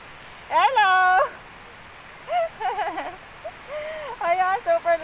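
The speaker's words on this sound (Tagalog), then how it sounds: "Grabe yung lakas ng ulan." Heavy rain falling outdoors as a steady faint wash of noise beneath a voice speaking near by.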